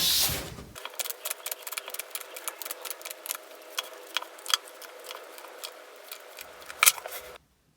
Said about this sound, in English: So let's shuffle the cards and see what comes through.